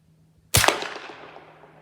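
A single sharp rifle shot, loud and close, with a ringing decay trailing off over about a second and a half; the cartridge fails to eject afterward.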